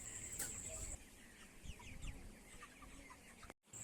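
Chickens cluck and call on a poultry farm, scattered bird chatter with a brief sharper squawk near the start, fairly steady and moderately close, with no talking.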